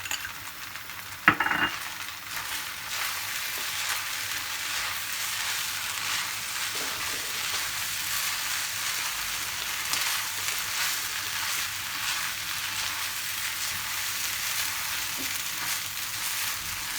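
Chopped spring onion frying in hot oil for chicken fried rice, with a steady loud sizzle throughout, an opening clatter as it is tossed in, and occasional soft scrapes of stirring.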